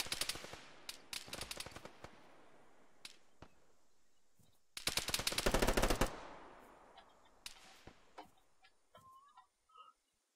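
Bursts of suppressed gunfire from a video game, rapid muffled shots in clusters with a longer sustained volley midway, fairly quiet and with no talking.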